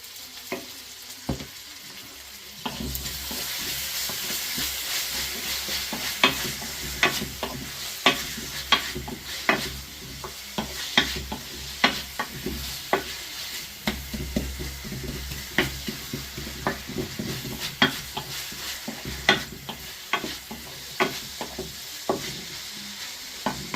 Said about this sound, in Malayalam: നമ്മൾ ഉള്ളി ഇട്ട് കൊടുക്കുമ്പോൾ തന്നെ നമ്മൾ ഒരു സ്പൂൺ ജിഞ്ചർ ഗാർലിക് പേസ്റ്റ് ഇട്ട് കൊടുക്കുന്നുണ്ട്